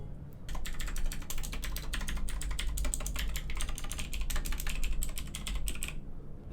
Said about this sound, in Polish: A teraz, dla porównania, tak brzmiała moja poprzednia klawiatura.